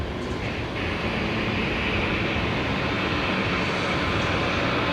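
A Virgin Australia airliner arriving on the left runway at Brisbane Airport, heard as a steady broadband roar of engine and wind noise that stays loud and continuous throughout, with no voices.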